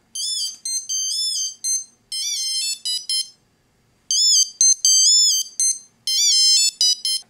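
A Wistiki Voilà key finder designed by Starck rings loudly with a bright, high electronic melody in repeated bursts, pausing briefly between phrases, heard alone without talk.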